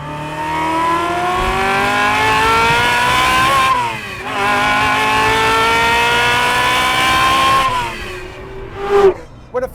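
A Ferrari F355's engine revs hard and climbs through each gear, with throttle blips and brief drops at the gear changes, loud and close throughout.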